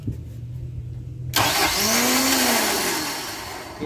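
An Isuzu Elf truck with a 4BE1 diesel engine, just back from starter repair, cranks briefly and then catches and roars to life. A loud, steady idle rumble follows with a rising whine over it, close by.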